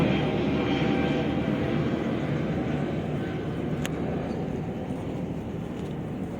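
Airplane passing over the Manila Bay reclamation area, a steady broad roar that holds loud throughout and fades slightly toward the end, with outdoor ambience.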